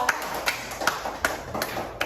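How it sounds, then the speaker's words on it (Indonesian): Classroom applause for a student group, heard as several sharp, evenly spaced claps or taps about every third of a second. The sound is thin and moderately close rather than a full crowd ovation. "tepuk tangan dulu untuk kelompok 3"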